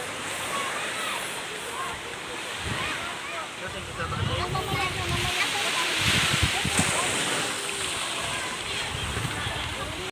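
Sea waves wash and slosh along Nelly's White Sand Beach in Bolinao, Pangasinan, a steady surf with a few louder surges and some wind, while a voice talks over it at times.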